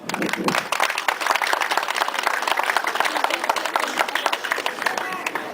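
A crowd claps steadily at a harvest festival, dense and sustained applause from many hands at moderate volume, with no talking over it.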